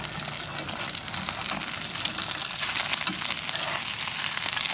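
An egg fries in a pan at a roadside cooking stall in the Philippines, giving a steady, close hiss and crackle of sizzling oil that continues evenly with no talking.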